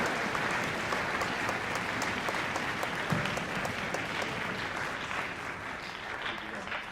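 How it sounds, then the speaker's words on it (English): Steady applause from the audience at a tuba and euphonium conference concert, honoring the competition judges; a dense, sustained wash of clapping that holds evenly for the whole stretch, with faint voices mixed in underneath. "Big round of applause for all the judges putting in the time for that."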